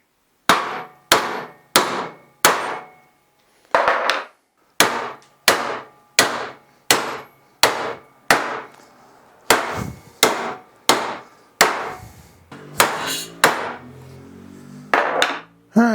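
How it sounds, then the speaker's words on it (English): Sharp hammer blows drive studs out of a three-piece forklift brake part, about twenty loud metallic strikes in an uneven rhythm, each ringing briefly before the next. "So let's drive these studs out, and this is actually 3 pieces."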